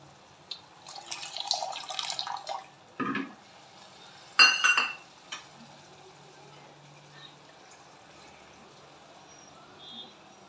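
Water poured into soaked tamarind in a pan, making short splashing bursts and a brief stream in a quiet kitchen, with a clink and faint scattered sounds afterward.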